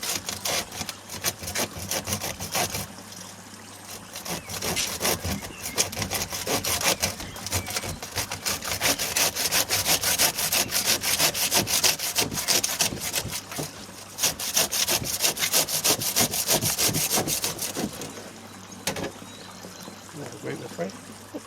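Steady rasping cuts of a saw grinding through bonsai tree roots, continuous strokes with gritty scraping, close by, with occasional voices murmuring underneath.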